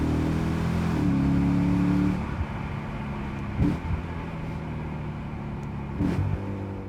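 Lexus IS-F V8 engine revving hard through downshifts, a loud sustained drone that falls away then blips sharply twice, close up with no talking.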